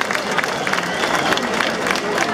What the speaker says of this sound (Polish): O, poprosimy o brawa.